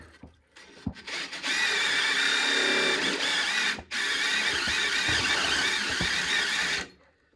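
A power drill with a £5 attachment fitted in its chuck runs with a steady high whine, near and loud, in two long bursts split by a brief pause, with light knocks at start and end.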